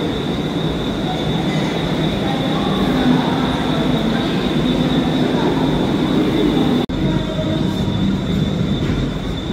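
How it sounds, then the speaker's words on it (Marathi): Mumbai local trains at the CST terminus, a steady loud rumble of rolling rail cars with wheel squeal and a high whine running throughout, plus a brief sharp jolt near the end. "हे आहे आपलं CST स्टेशन. ट्रेन अजून फास्ट ट्रेन लागली नाही, सर्व स्लो आहे."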